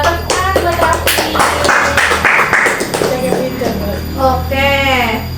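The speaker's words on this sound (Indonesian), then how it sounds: "Pinter, tepuk tangan buat Rafiq." Children in a classroom clap their hands together in a quick burst of sharp, overlapping claps, with young voices calling out over and between the claps.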